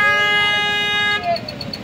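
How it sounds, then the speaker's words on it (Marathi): A vehicle horn blares in a single loud, sustained blast in Dharashiv town traffic. It holds for just over a second, then cuts off into rougher street noise. "हॉर्न वाजवतोय"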